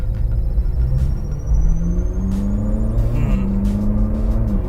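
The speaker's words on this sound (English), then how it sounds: "Loving the V8 in the back" Ferrari 458 with its naturally aspirated V8 heard from inside the cabin, rumbling deep and loud with pitch rising through a rev, alongside a faint high whine.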